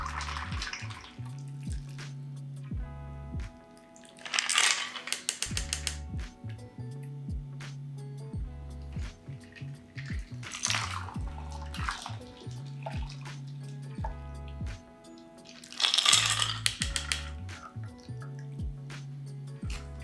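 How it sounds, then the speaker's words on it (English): A Champs Élysées cocktail is fine-strained into a coupe in three short bursts of trickling, dripping liquid, with music playing in the background. "So now we can fine strain it into our favorite cocktail coupe"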